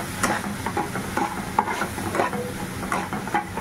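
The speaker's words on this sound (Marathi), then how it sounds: "छानसा मसाला आपण परतून घ्यायचा आहे तेलामध्ये छानसं" Masala paste of coconut, peanut and chili fries in oil in a pan as a spoon stirs it, with soft rhythmic scrapes and taps over a moderate sizzle.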